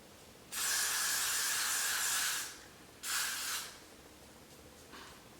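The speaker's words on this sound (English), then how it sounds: "I then take my freeze spray." A long hissing burst from an aerosol can of freeze spray, then a shorter second spray, close and steady against quiet room noise.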